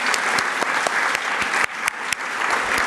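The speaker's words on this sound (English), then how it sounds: "we would like to give you a round of applause" A round of applause at the Salvation Army's annual Flower Power event, a loud, dense crowd clapping with sharp individual claps standing out, briefly dipping midway before carrying on.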